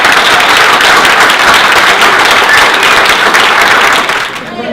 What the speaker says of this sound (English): Can we give all the people who are brave enough to stand up at the edge of the room a really big round of applause?